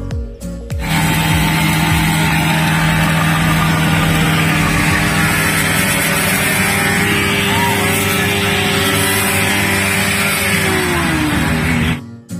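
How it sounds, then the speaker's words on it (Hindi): A vehicle engine runs at Biswanath Ghat in Assam, holding a loud, steady droning roar for about eleven seconds before its pitch sinks and it cuts off abruptly. "पर गाड़ी का साउंड अभी ट्राई करेगा किसका गाड़ी का कितना साउंड है।"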